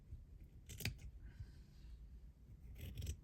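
Scissors snip through fabric while trimming a quilted stitchery piece by hand, two quiet bursts of short crisp cuts at the start and near the end, close up with faint background hum.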